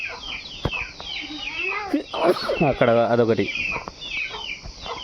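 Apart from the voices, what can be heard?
chickens clucking, including a rooster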